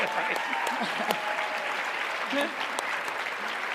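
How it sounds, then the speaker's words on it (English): Steady applause from a crowd at a corporate seller community event, sustained and fairly loud, with voices faintly mixed in beneath the clapping. "Let's give another huge round of applause to Co and Griff for that walk through histor"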